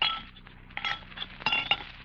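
Several glasses clink and chime together in a quick, irregular series of bright, close taps, as if being gathered for pouring ice and Coca-Cola, with no voices over the sound.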